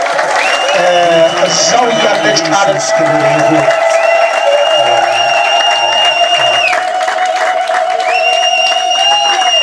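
A church congregation ululates in long, high, sustained trills mixed with steady applause, loud and unbroken, while a voice speaks over the crowd.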